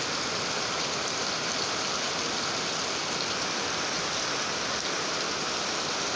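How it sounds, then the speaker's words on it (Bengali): Heavy rain pours down in a steady, dense hiss that holds even and unbroken throughout. "খুবই বৃষ্টি হচ্ছে।"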